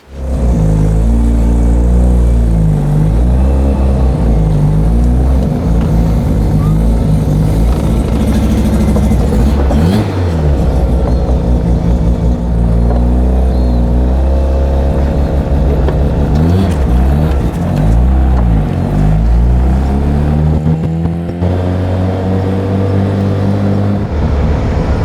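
A 500HP Bridgeport-ported rotary engine in a Mazda RX-3 revs and pulls hard while driving, a loud, continuous rumbling drone that rises and falls with acceleration and gear changes for the whole stretch, with no talk.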